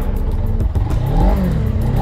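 A Suzuki GSX 250 R motorcycle engine revs up close, a loud rising and falling whine with mechanical clatter over two seconds.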